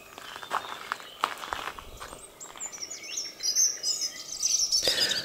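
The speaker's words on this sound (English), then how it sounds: "And the bird song, just glorious, just continues all the time." Several birds sing and chirp in a garden, a steady layer of high twittering calls that grows fuller toward the end, with a few soft footsteps or rustles underneath.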